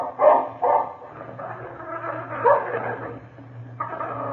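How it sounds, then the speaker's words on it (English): A dog snarls and barks in an old-time radio drama, with a run of rough, throaty yaps and growling bursts, fairly close and loud, broken by short pauses. "That dog is growling at Phil Furs."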